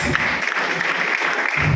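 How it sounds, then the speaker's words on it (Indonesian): A church congregation applauds during a sermon, with dense, steady clapping throughout that holds a fairly loud, even level. "Tepuk tangan buat Tuhan."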